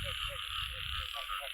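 Frogs croaking during a frog-catching outing, a repeated low croak pulsing steadily over a constant high insect drone, fairly close and clear.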